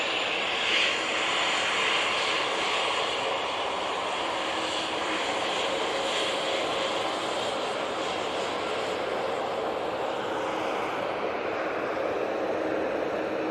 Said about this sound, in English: There's the beautiful Finnair.